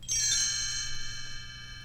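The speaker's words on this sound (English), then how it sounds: "You will know it is time to turn the page when Tinker Bell rings her little bells like this." Little bells ring once as a page-turn signal for a Goldilocks and the Three Bears read-along, a bright shimmering jingle that rings out clearly and decays slowly with no talk over it.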